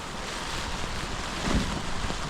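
Strong wind gusting by a lake during a canoe trip, a loud steady roar buffeting the microphone with no voices.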